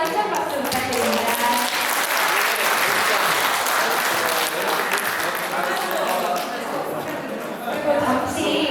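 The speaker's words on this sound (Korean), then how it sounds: "오한숙 선생님께 다시 한번 힘찬 박수 부탁드립니다." An audience applauds a lecturer at a women's committee lecture, with sustained, fairly loud clapping from a room full of people that carries on for several seconds, while voices murmur underneath.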